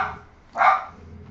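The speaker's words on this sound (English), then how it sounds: "Y'all excuse my dogs." Dog barks indoors: one short, sharp, mid-pitched bark rises out of quiet room noise, with a fainter yelp just before it.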